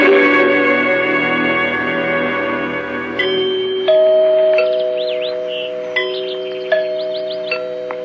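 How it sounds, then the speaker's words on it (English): Deep resonant tower-style bell chimes in an old-time radio mystery drama, several clear tolls ringing out with long sustained decay after a stretch of lingering musical tones, no voices. "Did you hear the chimes?"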